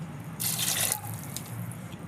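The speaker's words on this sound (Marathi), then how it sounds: "शेंगा भिजतील इतपत आपण त्याच्यामध्ये पाणी टाकणार आहोत" A short, close pour of water onto groundnut pods in a metal pressure cooker, a bright splashing rush lasting under a second, then quiet trickles.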